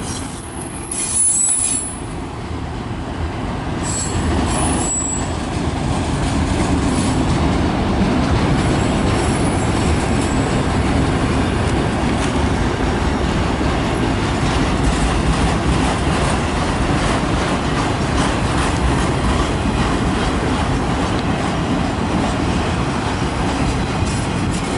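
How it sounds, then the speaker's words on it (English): A long CN freight train hauling many car-carrier wagons rolls past close by, with a loud, continuous rumble and sustained wheel squeal throughout and no talking. "Wow guys, this is such a long train."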